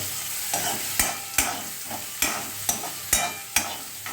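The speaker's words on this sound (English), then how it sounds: "So I'm stir frying the noodles on high flame." Hakka noodles with capsicum stir-fry over high flame: a constant sizzle broken by regular metallic scrapes and clanks of a spatula against the pan.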